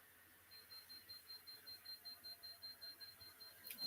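A Geiger counter emits a steady series of faint, high-pitched electronic beeps at an even, rapid rhythm against a quiet indoor background.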